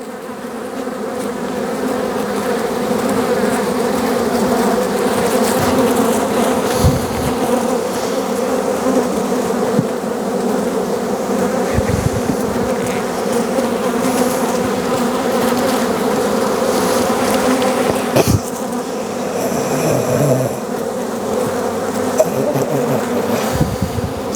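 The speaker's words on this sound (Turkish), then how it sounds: "Arılar polenli." Dense, steady buzzing of many pollen-laden honeybees at an open hive close by, a continuous droning swarm with a few brief knocks and shifts in the hum.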